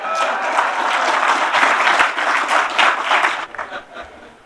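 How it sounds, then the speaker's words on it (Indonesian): Sustained audience applause from a political gathering in Indonesia, a dense, loud wash of clapping filling the whole stretch before thinning out near the end. "yang paling keras tepuk tangan kawan-kawan PDIP"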